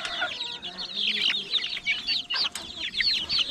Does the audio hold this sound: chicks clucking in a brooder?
yes